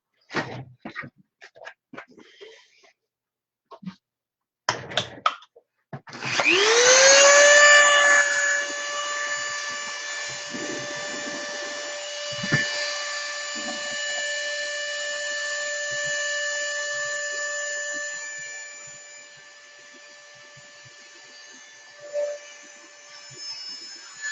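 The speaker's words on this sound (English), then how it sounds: "Let's get the rest, kind of grind it down a little bit though." A power grinder shaping a prop piece down to thickness spins up after a few light knocks and clatters, then holds a loud, steady, high whining drone for about eighteen seconds with no talk.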